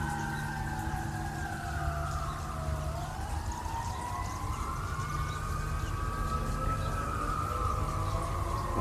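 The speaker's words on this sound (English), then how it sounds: "as you can hear, the fire trucks just went by" Fire truck sirens pass by outdoors, wailing and sweeping up and down in overlapping tones. They are moderately distant and continuous over a constant background rumble.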